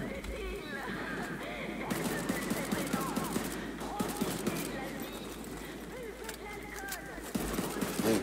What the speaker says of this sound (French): Je fais des tirs au hasard et ça touche pas